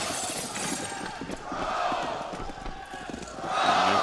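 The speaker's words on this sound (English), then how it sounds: "The crowd, a lot of Virtus Pro fans here at the Fox Theater tonight." A large crowd of Virtus Pro fans fills the Fox Theater at an esports match, a continuous roar of cheering and shouting that swells louder toward the end.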